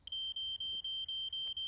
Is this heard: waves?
no